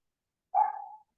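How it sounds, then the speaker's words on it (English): A single short dog bark, one clear burst under a second long, alone against silence and moderately close. "I apologize if you hear a dog barking."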